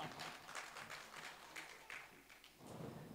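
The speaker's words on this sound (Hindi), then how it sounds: "जोरदार तालियां एक बार।" Audience at a Hindi comedy poetry recital applauding, a faint, steady patter of many hands clapping throughout the short stretch.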